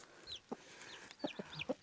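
Several short, soft peeping and clucking calls from newly hatched chicks, scattered irregularly and close by, with no talking.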